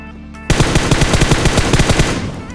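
Rapid automatic gunfire from an M416 or Groza in the video game PUBG Mobile, a loud sustained burst of evenly spaced shots after a brief quiet start.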